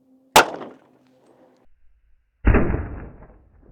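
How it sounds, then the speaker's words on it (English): Two sharp .40 Smith & Wesson gunshots fired into drywall, one at the start and a second, heavier crack after a pause, each followed by a short decaying ring. "Next up, we're gonna do 180 grain gold dot and jacketed hollow points for these 40 Smith & Wesson."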